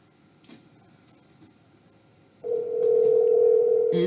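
Ringback tone of an outgoing telephone call on a radio morning show, a steady tone starting partway through after a quiet stretch with faint clicks, continuing to the end.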